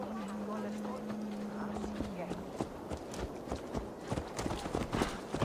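Horse hooves clip-clop at a steady walking pace through the fens of East Anglia in Assassin's Creed Valhalla, close and continuous, mixed with ambient game sound and a low held tone.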